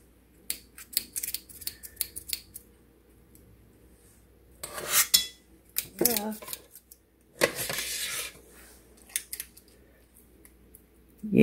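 A spoon scoops and rakes thick keto pumpkin cream cheese muffin batter, making scattered scraping clicks and two louder bursts of scraping against a bowl, close by, with quiet gaps between.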